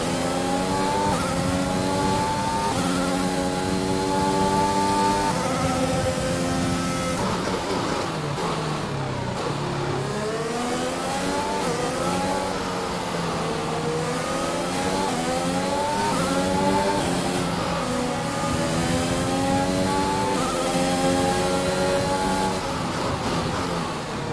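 Formula 1 race car engines from the F1 2021 racing game scream continuously at high pitch, rising and falling through gear changes and downshifts, loud and steady throughout.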